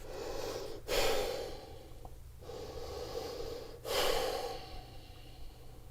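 A long exhaled breath during a yoga forward fold, with soft airy breathing and two sharper, snort-like exhales, close and quiet, with no talk.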